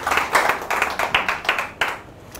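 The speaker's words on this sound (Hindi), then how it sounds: "एक तालियां बजा दीजिए इनके लिए." Audience clapping in bursts at a public speaking and presentation skills session, loud and close, rising and falling in uneven waves before thinning out.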